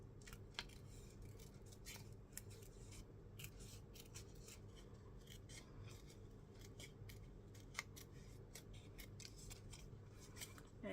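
Small scissors cutting paper butterflies for mixed media art, a long run of quiet, quick snips and rustling paper in an irregular rhythm, close up and soft.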